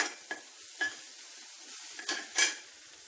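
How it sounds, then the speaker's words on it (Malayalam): Spring onion whites are stirred and sautéed in a pan, with a handful of quiet scrapes and light clinks of the utensil over a faint sizzle. "ഇതും നമുക്ക് നല്ലതുപോലെ ഒന്ന് ഇളക്കിയെടുക്കാം."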